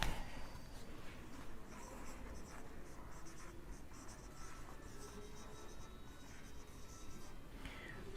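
Pen scratching steadily across paper while writing out a physics equation for total charge, soft and close, with continuous short strokes and scribbles and no talking.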